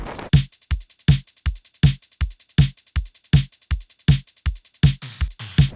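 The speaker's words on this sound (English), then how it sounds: "I'm going to grab the Boomo hat from the Prolog drum kit" A Boomo hat from the Prolog drum kit plays a sixteenth-note pattern alongside a punchy kick, crisp evenly spaced ticks with sharp accents in a tight, looping post-punk groove.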